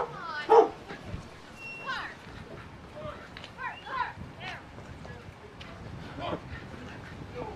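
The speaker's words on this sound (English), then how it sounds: "We got a night dog." A dog barks at night outdoors during a Montana cycling tour stop, a few yips and barks mixed among nearby people talking and background chatter.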